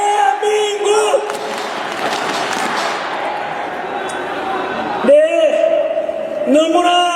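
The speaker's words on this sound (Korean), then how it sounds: "너무나 함성 소리, 대한민국을 외치는 소리가 듣기 좋고 힘이 납니다만은" A large outdoor rally crowd on a city street shouts and cheers in loud waves, with a chant swelling and fading under amplified voices that carry across the clip.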